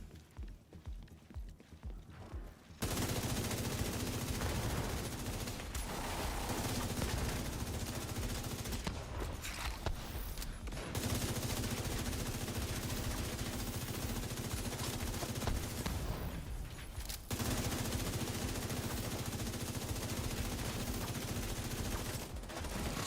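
Sustained automatic gunfire in The Division 2 during a gear and build session, loud continuous rattling bursts lasting several seconds each, broken by brief pauses, with little or no talking.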